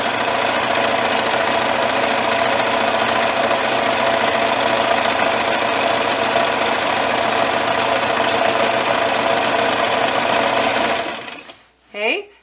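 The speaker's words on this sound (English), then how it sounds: "I'm gonna put it right in my machine and I'm gonna just zigzag all the way across" A sewing machine runs a zigzag stitch across knit fabric for a twisted headband, a fast, steady, close mechanical whir that stops abruptly near the end, followed by a brief word from a speaker.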